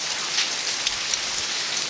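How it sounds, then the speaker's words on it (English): Rain falls on a garden in Coamo, Puerto Rico, a steady, close hiss of drops pattering on leaves and ground, with no voices. "I love all this rain that we had."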